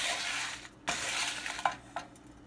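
Dried vathal berries dry-roasting in a pan over a low flame, with a soft continuous rustle and scraping broken by a few sharp stirring clinks of a utensil against the pan.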